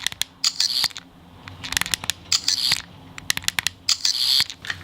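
A 14th Doctor sonic screwdriver toy held close to the microphone clicks its trigger in small bursts: sharp plastic clicks and ratchety scratches in clusters, with brief hissy flutters between them and no talking.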